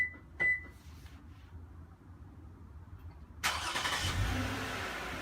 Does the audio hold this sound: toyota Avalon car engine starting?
yes